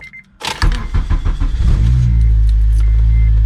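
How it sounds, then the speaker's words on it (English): An Acura TSX with a K24 engine cranks briefly and fires up, then settles into a loud, steady low idle, heard close with a faint whine at first and no talking. "you could feel the way the car starts up"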